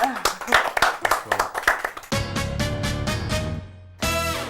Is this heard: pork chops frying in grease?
no